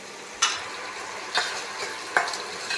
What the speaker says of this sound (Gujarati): હવે બરાબરનું મિક્સ કરી લઈશ ને થોડીક વાર સાતળવા દઈશ